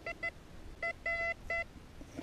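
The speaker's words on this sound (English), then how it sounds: "I wouldn't have seen it if the detector hadn't gone off." A Cscope CS1MX metal detector gives a series of short electronic tones, two quick chirps and then three longer beeps, clear and close over faint outdoor background.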